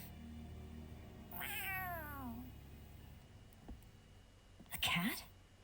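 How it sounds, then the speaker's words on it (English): Cat in Tales of Arise gives a drawn-out falling meow, then a short sharper meow a few seconds later, close and clear over quiet ambience, with soft voices nearby. "A cat? Where'd it come from?"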